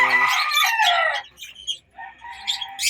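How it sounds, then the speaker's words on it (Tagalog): Birds in a backyard aviary call up close: a burst of harsh, rasping clucks and cries, a brief pause, then more scratchy chirping calls. "So ayan na mga kaibon."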